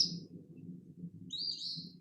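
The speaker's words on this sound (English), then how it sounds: "So listen out for Phoebes because they're saying their name." An eastern phoebe gives two short, raspy whistled calls, one at the start and a longer one later, over a faint low background murmur.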